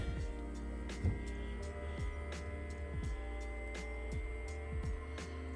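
The small cooling fan on the 60V battery of a Toro cordless electric snow shovel hums steadily and quietly close by, a faint whirring drone with occasional soft clicks and no talking.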